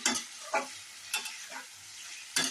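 Tomatoes being stirred in a pan for chutney: a soft bed of sizzling with a few distinct scraping strokes of a spoon against the pan, spaced irregularly, close and fairly quiet, with no talking.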